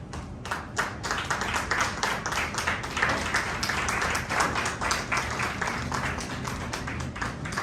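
Clapping from the audience at an awards and convocation ceremony in Indore as a PhD in Education candidate is honoured, a sustained burst of many hands with sharp individual claps standing out, fairly loud and close.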